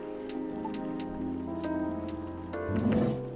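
Rain falls steadily in the video game Coffee Talk, a soft, even patter that sits beneath gentle tonal music and swells slightly near the end.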